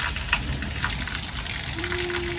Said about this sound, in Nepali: बाहिर पनि यस्तो पानीको धारा मुसलधारे पानी आएको छ